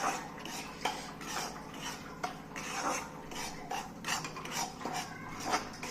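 A spoon scrapes and clinks against a pan as fine semolina roasts in ghee, in repeated uneven strokes, close and fairly soft, with no talk.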